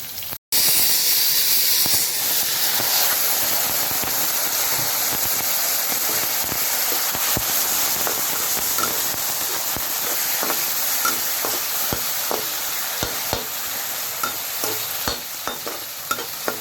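Mango pieces dropped into a hot pan sizzle and fry loudly, a continuous close hiss with the occasional stirring scrape, no talk over it.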